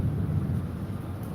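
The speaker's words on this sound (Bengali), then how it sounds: "বৃষ্টির পরিমাণ বাড়তেছে, একটু একটু করে বৃষ্টি বাড়ছে।" Steady, dense rain roars during Cyclone Remal, a loud continuous wash with heavy low rumble and wind buffeting the microphone, and no voices.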